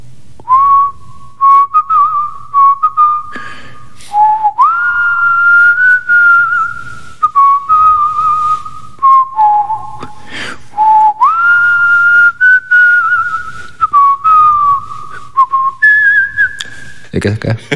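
A person whistles a Korean song alone, clear and close, with sustained notes and short breaths between phrases, on a radio show.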